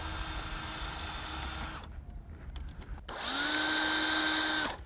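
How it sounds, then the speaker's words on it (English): A power drill with a self-centering bit drills hinge holes in a storm door, whining steadily, pausing briefly with some clicking, then spinning up again at a higher, louder pitch before stopping. "This is called a self-centering drill bit."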